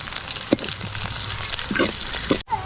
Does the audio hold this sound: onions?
yes